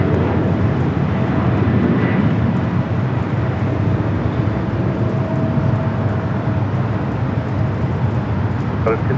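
A JetBlue airliner takes off from runway 24 left at LAX, a steady, loud broadband jet roar filling the whole stretch with a faint tonal whine, while radio-style voices talk over it.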